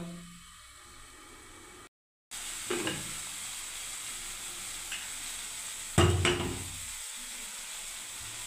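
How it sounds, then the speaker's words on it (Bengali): Spice paste fries in oil in a pan, giving a steady soft sizzle that stops briefly and then returns, with a couple of louder scraping stirs as it is cooked down for a turmeric pea dish. "কিছুক্ষণের মশলাটাকে আমি কষতে থাকবো বন্ধুরা।"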